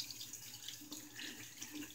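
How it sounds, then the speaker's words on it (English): Tap water runs steadily while a shaving brush is rinsed at the sink, a close, soft hiss and splash with slight shifts as the brush moves under the stream. "let's rinse this brush out"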